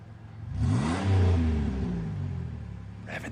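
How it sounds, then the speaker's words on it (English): A car engine revs up, its pitch rising and then easing back down, loud and close with no talking over it. "Revving those engines."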